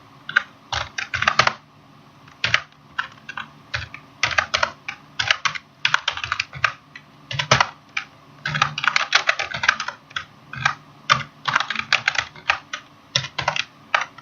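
Rapid bursts of typing on a computer keyboard, close and crisp, with key clicks coming in uneven clusters separated by short pauses.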